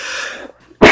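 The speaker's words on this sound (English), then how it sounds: "Bad sneeze." A single loud, close sneeze bursts out after a short breathy intake and a brief pause, sharp and explosive, heard alone without talk.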